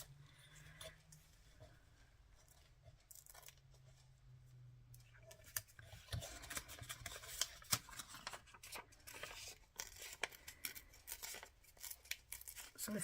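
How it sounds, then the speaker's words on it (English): Paper is torn slowly and carefully by hand along an edge to leave a jagged line for a journal. Soft, crackly ripping builds in irregular bursts after a quieter start. "So very carefully, just tear that along there."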